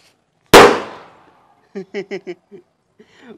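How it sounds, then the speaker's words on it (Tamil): A Diwali firecracker set off through a voice-command phone app bursts with a single sharp, loud bang that rings and decays, followed by a few short electronic voice-like tones and a brief voice. "நான் ஃப்ரெண்ட்ஸ் அகைன் வந்து இன்னொரு கிராக்கரை வந்து டெஸ்ட் பண்ண போகிறோம்"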